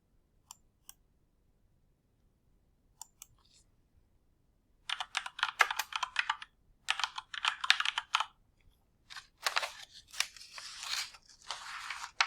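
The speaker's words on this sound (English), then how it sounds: "Type in the answer" Computer keyboard typing, close and clear: a few scattered clicks, then dense bursts of rapid keystrokes in irregular runs, with no talk.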